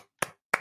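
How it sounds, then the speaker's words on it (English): Two sharp, separate hand claps ring out close and clear in a quiet room, about a third of a second apart, with nothing else heard. "very good job. A clap."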